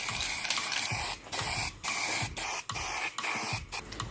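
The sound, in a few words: spray painting a plastic part white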